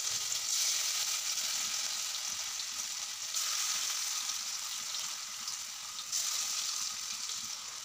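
Corn fritters deep-frying in mustard oil make a steady, close crackling sizzle that runs unbroken, with brief swells as the hot oil bubbles.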